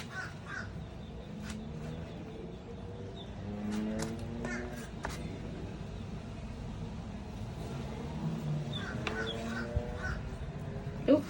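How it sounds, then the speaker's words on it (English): Crows caw repeatedly at a distance outdoors, harsh calls in short clusters over a constant low rumble of traffic. "Those are crows that are making noises"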